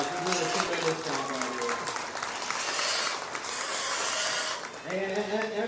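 Audience applause at a livestock show ring at the 83rd Preston County Buckwheat Festival, a steady dense wash of clapping through the whole stretch, with voices talking over it and an announcer's voice returning near the end.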